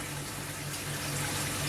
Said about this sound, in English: And you'll hear the water filling.